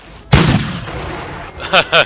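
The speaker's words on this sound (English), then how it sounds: "Cannons." Cartoon cannons firing, one loud booming blast that decays into a rumble, followed by two short bursts that may be voices.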